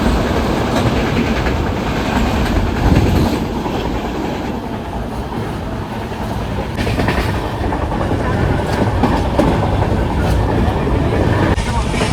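The Jan Shatabdi Express runs from Mumbai to Sawantwadi through the Konkan, a steady loud rumble of wheels and carriages with rhythmic clickety-clack carried on throughout from inside the train.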